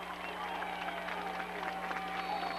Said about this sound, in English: Now the crowd loving it here at William & Mary.